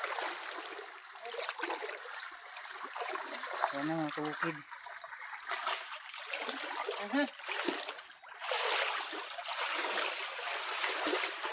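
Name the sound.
water being drained from copra boat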